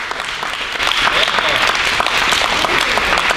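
Sustained applause from an audience honoring the Gandhi Peace Award laureate, a dense, steady clatter of many hands that holds at full strength throughout, with some voices mixed in the crowd.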